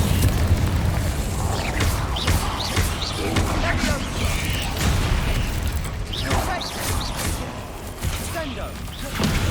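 Incendio fire spell being cast repeatedly in Hogwarts Legacy, with whooshing flame bursts and booming impacts mixed with mechanical clatter and game effects, steady and fairly loud throughout.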